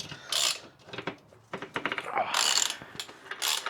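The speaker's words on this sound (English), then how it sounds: "Start winding this nut through from the other side." A ratchet winds a nut along a bolt from the other side, giving bursts of rapid clicking pawl sounds in several short runs with brief pauses between them, fairly close and loud.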